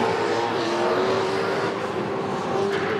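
Supercars V8 touring race cars from the 2006 Desert 400 brake hard into turn 1 and power out of the exit, a steady loud engine roar with a sustained droning tone and no pauses.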